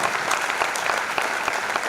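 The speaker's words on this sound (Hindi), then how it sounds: "तालियां जरा एक बार गूंज जाए इन बेटों के लिए" An audience at a Hindi kavi sammelan poetry recital applauds, a dense, continuous burst of many hands clapping from start to finish.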